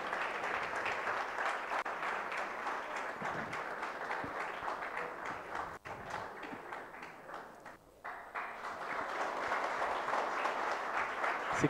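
A crowd of audience members claps steadily for project competition winners at a prize distribution, a dense continuous wash of applause that dips briefly midway before swelling back to full strength.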